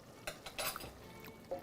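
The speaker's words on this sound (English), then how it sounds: "So I'm just mashing the chickpeas just a little bit." A spoon scrapes and knocks against a pot while chickpeas in a gravy are mashed for chole, a few soft irregular clinks and squishes, close and quiet, with no talk.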